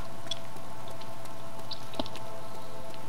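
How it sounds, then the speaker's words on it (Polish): Rain falls in a forest in the survival game DayZ, a steady faint patter with scattered soft drops, running alone and unbroken with no talk. "Pada deszcz."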